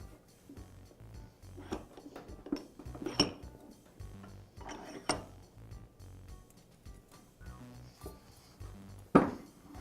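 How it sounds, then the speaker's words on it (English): Metal clanks and scrapes as the wheel hub of a Milwaukee band saw is clamped into a vise, with a scattering of irregular clinks and one sharp knock near the end, close by with no talking. "To do that, I'll clamp the hub in the vise."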